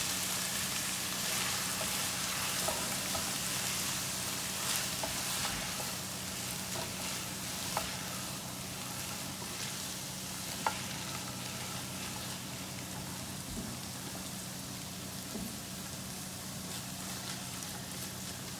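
Flour stirred into a pan keeps cooking with a continuous close sizzle and crackle, a steady low hum beneath and a few sharp ticks of a utensil against the pan, with no talking.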